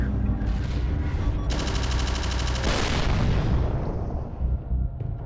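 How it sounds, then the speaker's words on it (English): Spaceship weapons fire in the space combat game Astrokill: loud, dense bursts of rapid shots layered with heavy booms, continuous and close, with no talking. "And the shots are going very awkwardly"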